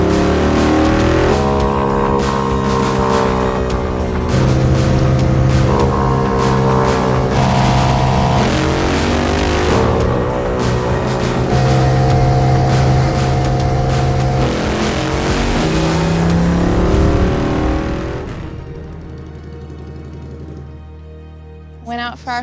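A Royal Enfield 750 motorcycle makes a record run on the Bonneville Salt Flats, its engine climbing loudly through several gear changes with rising and falling pitch before fading away into the distance.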